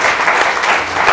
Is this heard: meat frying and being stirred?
no